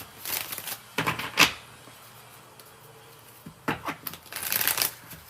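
Tarot cards are shuffled close up in a few quick riffling bursts, with pauses between them, and nobody speaks.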